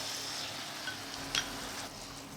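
Quiet steady sizzling from peppers frying in a pan as tomato sauce goes in, a soft hiss with a brief clink or spatter in the middle, no talk.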